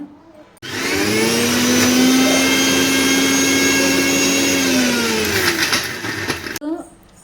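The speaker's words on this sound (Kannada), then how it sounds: "ಈಗ ಇದಿಷ್ಟನ್ನು ನಾವು ಸ್ವಲ್ಪನೇ ನೀರು ಹಾಕಿ ಮಿಕ್ಸಿಗೆ ಹಾಕೋಣ." Kitchen mixer grinder blending spinach with tamarind and a little water, a loud steady whirring motor drone running for about six seconds before stopping abruptly.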